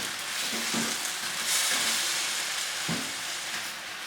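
Pork chops and pineapple chunks sizzle loudly in a pan over medium-high heat, a dense continuous hiss broken by a few soft scraping stirs.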